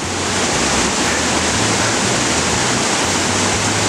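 Loud, continuous rushing water at a river crossing, a dense, steady roar of foaming current heard up close with no voices.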